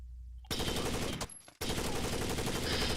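Rapid automatic gunfire from a video game, fired with a Steam Controller trigger held down, a dense continuous burst that breaks off briefly for about half a second before resuming just as loudly.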